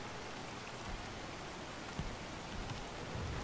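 Steady rain falls in the dark medieval strategy game Gord, a continuous even hiss of drops on surfaces with no talk.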